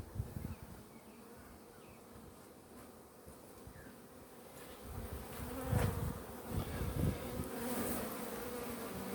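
Honeybees buzz steadily during an open hive inspection, where foragers are bringing in pollen: a dense, continuous drone close to the listener that swells a little louder in the second half, with no voices.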